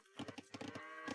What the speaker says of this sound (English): The cows are going this way